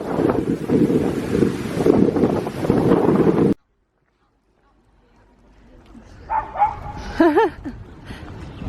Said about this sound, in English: A little bit of excited little dog.